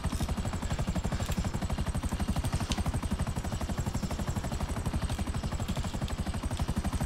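An attack helicopter in GTA 5 Online flies steadily with a loud, fast rotor chop and a constant engine whine throughout, no voices over it.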